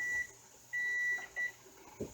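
Electronic timer on a pressure canner used for beef and pork stew, sounding a few short, thin beeps of uneven length at moderate volume over a quiet background.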